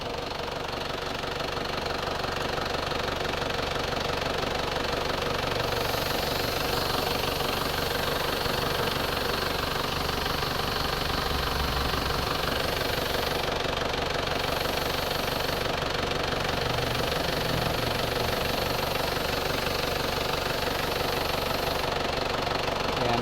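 An Isuzu Fuego engine idles steadily with its air-conditioning compressor running, a continuous loud mechanical drone with a faint knocking rhythm, constant throughout with no talking.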